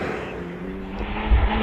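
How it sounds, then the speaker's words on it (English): A Porsche 911 pulling away on a hill climb course, its engine a brief loud drone that swells toward the end as the car gets underway. "Rodney Isles gets underway in the Porsche 911."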